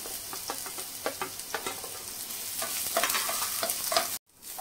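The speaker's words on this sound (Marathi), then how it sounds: "1 मोठ्या आकाराचा कांदा असा लांब कापून घेतलाय, तो आपल्याला छान लालसर होईपर्यंत परतून घ्यायचा आहे" Long-sliced large onion sautés in oil in a pan, a steady close sizzle broken by repeated scraping stirs of a spoon, with a sudden brief cut near the end.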